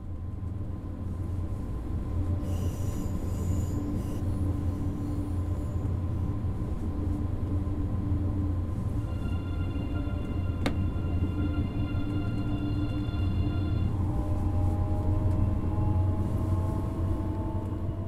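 An eight-car, third-generation Siemens intercity express with a 320 km/h top speed runs in Train Sim World 2 as a steady, continuous drone with layered whining tones and a single sharp click midway. No voices.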